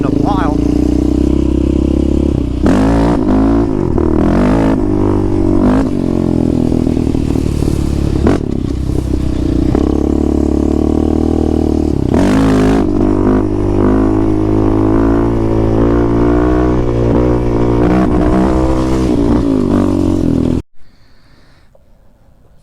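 A 450 dirt bike engine runs loud and close throughout, a steady rough drone with shifting revs and some clatter, then it cuts off abruptly near the end, leaving quiet hiss.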